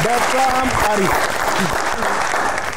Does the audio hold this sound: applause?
yes